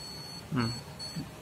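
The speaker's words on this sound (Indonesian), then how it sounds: "Kerusakannya ada di VGA dengan indikasi 1 bip panjang, 2 bip pendek ya." A PC motherboard sounds a beep code through its speaker, one long beep and then two short ones, signalling a VGA card fault on a newly assembled computer; the tones are faint and partly masked by room noise.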